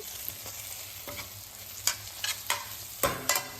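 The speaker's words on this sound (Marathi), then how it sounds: "आता कांदा मिरची आणि भेंडी व्यवस्थित मिक्स करून घ्यायचे" Onion, chili and okra stir-fried in oil, a spatula scraping the pan in a few sharp, separate strokes over a faint, steady sizzle, with no one talking.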